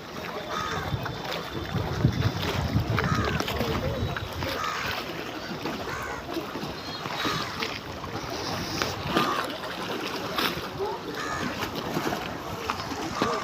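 A trawler boat on the Padma river, its engine drone and rushing, splashing water filling the scene with steady broadband noise, wind buffeting the microphone throughout.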